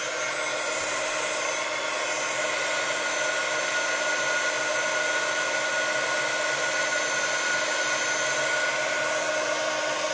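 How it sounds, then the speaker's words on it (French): A heat gun blows hot air in a constant, loud whooshing hum with a faint motor whine, unchanging throughout with no talking. "si je mets le hot gun dessus"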